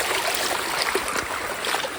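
Clear water from a mountain stream flows and trickles steadily in a Thai village setting, a close, continuous babble with small gurgles and splashes.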